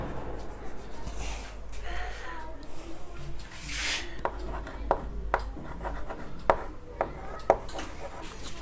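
An equation is written on a board, with scratchy strokes and a series of sharp taps growing more regular toward the end, under a person talking.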